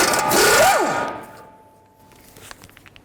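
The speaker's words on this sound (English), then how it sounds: "Now I'll take the tie rod nut off. I'm going to use a 22mm socket." A power tool whirs up and winds down in a quick spin as it takes the tie rod nut off a 2004-10 BMW X3 with a 22mm socket, then a few light metallic clicks follow.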